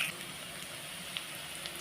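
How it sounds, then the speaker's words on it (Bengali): Onions frying in a pan for a Bombay duck dish give a steady, soft, fairly faint sizzle, with no talking. "পেঁয়াজটা ভাজা হোক"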